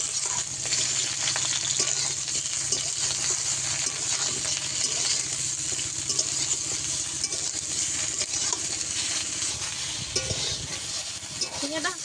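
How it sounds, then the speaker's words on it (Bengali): Ridge gourd pieces sizzle and crackle lightly in hot oil in a pan, a steady, close frying hiss with occasional stirring scrapes throughout, no voices. "প্রথমে আমি ঝিঙেটা হালকা করে ভেজে নেবো"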